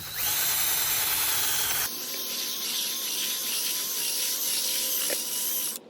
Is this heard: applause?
no